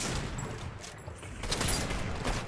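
Gunfire in Fortnite, a rapid burst of distant shots with a crackling spread that runs steadily through the whole stretch at moderate level, with no talk over it.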